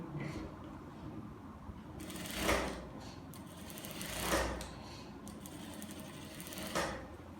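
A sewing machine stitching dress straps with a 1 cm seam allowance, running quietly in a low steady hum with three short louder bursts spaced a couple of seconds apart.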